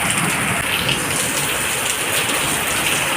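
Heavy rain pours down steadily in a thunderstorm, a dense, loud, continuous hiss with no voices.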